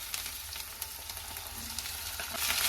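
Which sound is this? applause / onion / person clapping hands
onion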